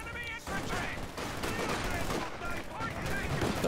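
Dense, rapid machine-gun bursts rattle through a Company of Heroes 2 tournament match, running steadily under a caster's continuous commentary.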